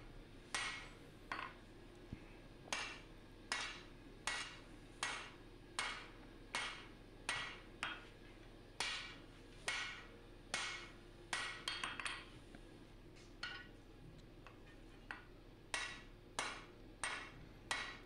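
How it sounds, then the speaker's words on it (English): Blacksmith's hammer striking hot steel on an anvil while forging a Musso Bowie knife blade, a long series of sharp, ringing metallic blows at a steady rhythm, close and clear, with a few quicker double strikes near the end. "I'm just taking it to the very corner of the anvil and brushing that hammer down a little bit"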